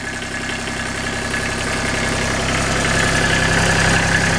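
Kubota tractor engine idling steadily nearby with a rough, knocking diesel chatter, a belt-driven alternator turning under the hum and a constant vibrating drone that swells slightly louder toward the end.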